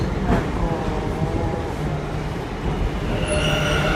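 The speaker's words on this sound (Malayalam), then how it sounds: "നമ്മുടെ മെട്രോ ട്രെയിൻ വരുന്നുണ്ട്." A Bangalore metro train pulling into a station, a loud rumbling, rushing roar with rail squeal and a faint tone near the end, close by.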